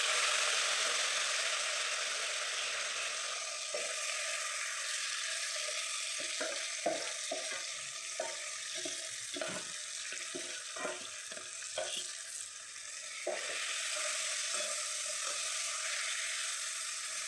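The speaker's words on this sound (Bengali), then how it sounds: "এরপর আমি এর মধ্যে ম্যারিনেশন করা চিকেনটা দিয়ে দেবো।" Marinated chicken sizzles in a hot pan with steady broadband frying hiss throughout, broken by irregular clicks and scrapes of stirring, the sizzle dipping briefly midway before resuming.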